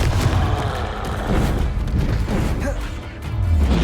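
In Hogwarts Legacy, a Confringo blasting spell erupts in a loud, dense burst of booming, crackling explosion noise that rumbles on without a break.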